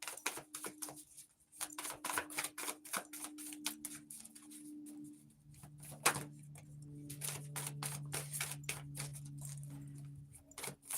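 Tarot cards being shuffled and drawn, a dense run of crisp papery flicks and riffles in quick irregular bursts, close and fairly quiet, with a low hum underneath.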